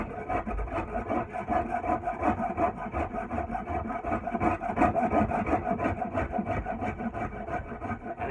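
Steady, close rasping and scraping as an edge tool shapes a wooden tool handle against the grain, rounding it down; continuous rough rubbing strokes with no talk.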